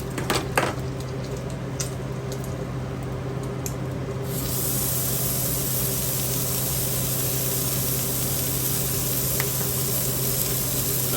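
Cooking spray hisses onto a hot griddle while chopped cheese sandwiches are being made, a few short bursts and then a long, steady, close hiss and sizzle.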